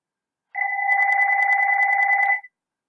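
A telephone rings with a steady electronic two-tone trill, loud and close, sounding alone for about two seconds during a physics lesson and then cutting off cleanly.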